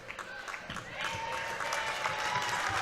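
A crowd at a girls varsity basketball game between Shanley and Grand Forks Central applauds the seniors: steady clapping that grows fuller and louder partway through, with faint voices beneath.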